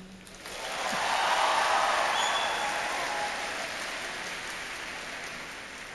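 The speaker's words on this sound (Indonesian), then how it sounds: "Kita beri tepuk tangan lagi." Applause at a university graduation ceremony swells quickly into a dense, hissing wash of many hands clapping, then slowly eases off while still going.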